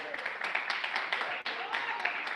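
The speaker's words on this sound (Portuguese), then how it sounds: "Palmas de vitória." A church congregation claps in a brisk, uneven rhythm, the hand claps mixing with voices in the room at a fairly faint level.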